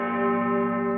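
A church bell, the bell of pardon, rings with a steady sustained metallic tone and rich layered overtones, loud and close, heard alone without voices.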